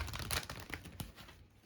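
Tarot cards being shuffled, a short burst of papery crinkling riffles and soft slaps, close and fairly loud.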